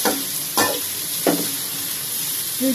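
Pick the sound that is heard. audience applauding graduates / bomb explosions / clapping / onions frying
onions frying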